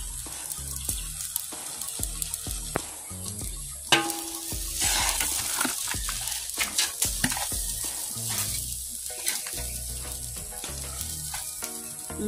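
Food frying in a pan while being stirred, with a steady sizzle under repeated scraping and clinking of the utensil, close and moderately loud, no talk.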